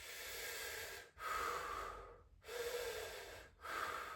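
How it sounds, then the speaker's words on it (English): Slow diaphragmatic breathing demonstrated close to the mic: three long, airy breath cycles with short pauses between them, steady and loud, no talking. "the best form of breathing is going to be diaphragmatic. So something like this."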